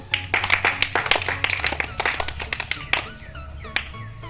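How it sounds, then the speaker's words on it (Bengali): A small audience at a biscuit-eating game claps in quick, uneven bursts, sharp close claps that thin out toward the end as a faint voice comes through. "দাও সবাই হাততালি দাও"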